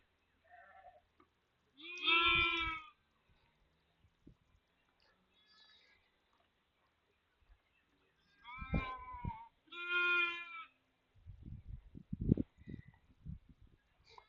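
Sheep bleating on a farm, a few loud drawn-out calls separated by quiet stretches, followed by some soft rustling and knocking nearby.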